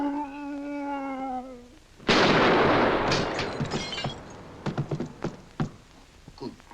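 A single loud gunshot bursts out in a comedy film after a sustained harmonic tone, followed by a decaying crash and scattered knocks and clatters.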